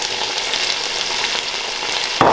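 Mint and coriander leaves frying in a biryani pot give a steady, dense sizzle with stirring, louder in a brief burst at the end as the leaves hit the hot oil.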